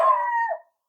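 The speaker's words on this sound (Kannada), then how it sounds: "ನಾಯಿ ಹಂಗ ಹೆದರ್ತೈತ." A dog gives a single short howl, a clear tonal wail that holds steady and then bends downward before cutting off after about half a second. It is close and alone.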